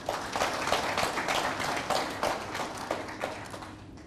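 Audience at an information campaign launch applauding a newly unveiled logo, a dense continuous patter of many hands clapping at moderate loudness that tapers slightly toward the end.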